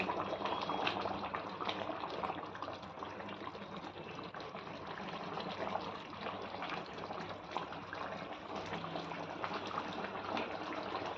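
Water is poured into a pot of chicken curry, a steady, soft liquid rush that runs evenly throughout at low volume, with no talking.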